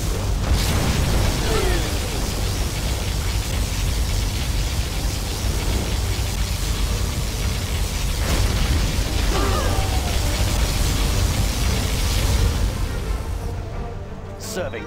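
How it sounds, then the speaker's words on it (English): Particle cannon blasts and explosions in the strategy game Command & Conquer Generals, a dense continuous roar with sharp bursts and crackles throughout, fading out at the very end. "Warning, particle cannon activated."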